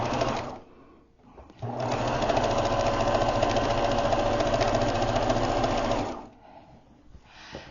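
A sewing machine stitches quilt fabric in one sustained, even mechanical whir lasting several seconds, preceded and followed by brief quieter moments with faint handling sounds.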